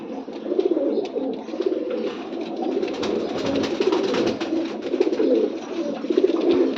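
Domestic fancy pigeons, a young Teddy-type hen among them, coo in soft repeated low throaty phrases close by, layered over one another against a quiet background.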